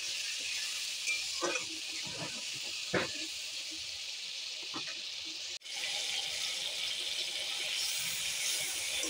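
Soft, steady sizzling of shrimp frying gently in oil, with a few scattered stirring clicks and a brief dropout partway through.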